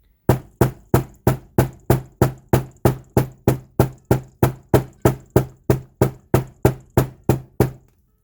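A hammer strikes Soft Flex beading wire in about twenty-four sharp, evenly spaced metallic knocks, loud and close, in a steady rhythm with no talking.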